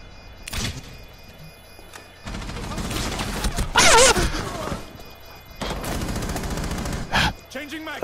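Gunfire from a tactical shooter round in Rainbow Six Siege, with several bursts of rapid shots in short sustained stretches, loud and close, broken by brief sharp impacts.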